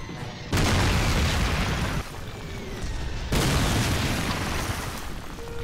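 Satchel charges blow up in the World War II shooter Call of Duty: United Offensive, two heavy booming blasts a few seconds apart, each leaving a long rumbling tail.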